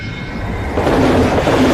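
The ICE 884 high-speed passenger train running on rails toward Hamburg, a loud, steady rumbling roar with rushing wheel noise that swells slightly partway through.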